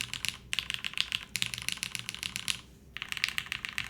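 Someone types on a Gondo ergo mechanical keyboard with newly fitted keycaps, producing quick, close clacking keystrokes in three bursts separated by short pauses.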